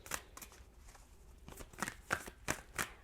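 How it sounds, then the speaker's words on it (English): Tarot cards shuffled by hand, a series of quiet crisp riffling bursts in an irregular rhythm, close and alone with no talking. "1 more shuffle for Leo"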